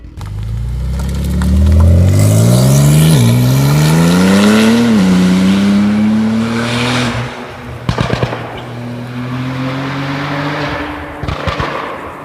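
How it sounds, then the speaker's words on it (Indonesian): A tuned Porsche 911 Turbo S TechArt GT Street R engine revs hard and close, pitch climbing through a sweeping rise, then settles into a lower drone with sharp crackling pops and clatters toward the end. "Ini adalah Porsche 911 Turbo S Tech Art GT Street Art Flyway."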